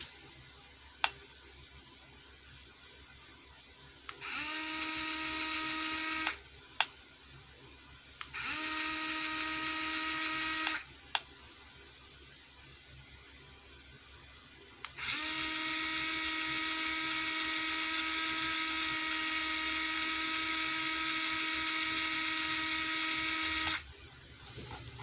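A ZPER ZP016-3 cordless screwdriver runs in three bursts of high, steady whine, two short and one long, each switching on and off cleanly against a quiet background.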